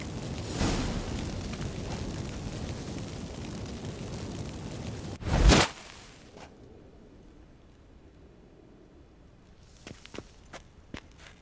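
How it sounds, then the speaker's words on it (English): Magic fireworks set off by activated incense in The Witcher 3: Wild Hunt: a rumbling, crackling burst builds to one sharp loud bang, then fades into quiet with a few faint pops and footstep-like taps afterward. "Get ready for some magic fireworks."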